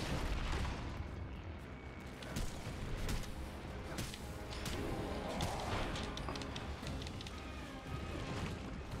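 Gunfire and heavy impacts crash through a chaotic boss fight with Clayface in the video game Gotham Knights, dense and continuous over nine seconds with repeated sharp bursts layered over rumbling booms.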